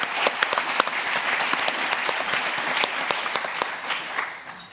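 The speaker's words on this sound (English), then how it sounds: "I think we should all just give them a round of applause here as we wrap up the day" An audience at the close of a day-long event gives a round of applause, a dense, sustained burst of many hands clapping with no voices over it.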